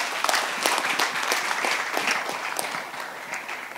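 An audience at a Marathi film event claps loudly and continuously, a dense patter of many hands that fades slightly toward the end.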